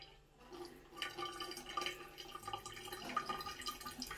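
Tap water runs and drips steadily into a sink while a Barbie doll is washed to remove its makeup, a close, moderate splashing trickle with no talking.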